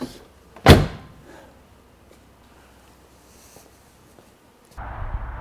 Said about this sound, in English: this is how a Mercedes door should close